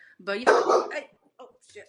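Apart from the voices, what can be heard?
dog barking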